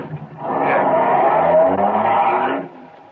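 A car drives off as an old radio-drama sound effect, its engine swelling up loud for a couple of seconds and then cutting away.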